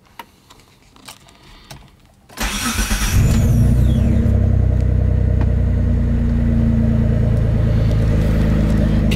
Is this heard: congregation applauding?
no